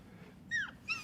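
A dog gives two short, high whimpers, soft and nearby, over quiet background noise.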